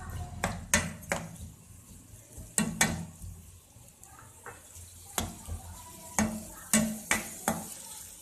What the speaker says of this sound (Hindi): इसमें ये सारी प्याज, इसको अच्छी तरीके से सॉफ्ट कर लेंगे